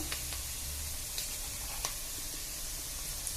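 Prawns frying in a pan as soy sauce goes in, a soft steady sizzle with faint hissing and a few small pops and clinks, quiet and close with no voices.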